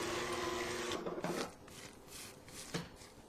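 An electric mixer beats eggs and vanilla extract into peanut butter chocolate square batter, a steady whirring buzz that eases off after about a second, followed by scattered softer scraping against the bowl.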